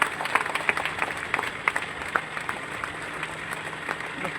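Students clap together in a steady burst of applause at a school bus flag-off in Goa, a dense crowd of hands heard close and continuous throughout.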